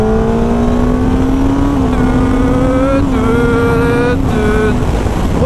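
A Kawasaki Ninja ZX-10R motorcycle pulls away in third gear out of town, its engine droning loud and close and rising steadily in pitch, with quick quickshifter gear changes causing brief drops in the note, under a rider's talk.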